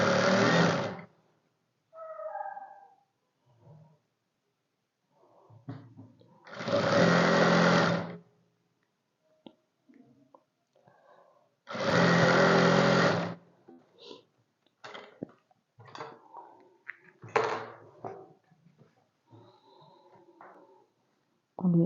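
Bursts of a sewing machine stitching a garment sleeve, several runs of rapid mechanical whirring, two of them longer and steady, alternating with someone talking nearby between the runs.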